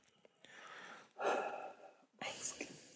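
A person yawning on a day off from work, with long airy breaths that swell and fade in drawn-out waves, close and quiet, inside a relaxed podcast conversation.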